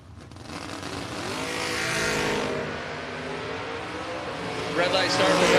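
Drag race cars launching during eighth-mile practice tree runs, a loud, building engine roar that swells and holds, with a second revving burst near the end, heard from the stands.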